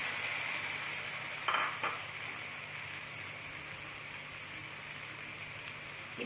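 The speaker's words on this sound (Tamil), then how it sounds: "இதில் நம்ம எடுத்து வச்சுருக்கிற தக்காளி பியூரியை ஊற்றணும்" Tomato puree poured into sautéed onions in a pan sets off a steady, moderate sizzle, with a short splashy burst early on before the frying settles into an even crackle.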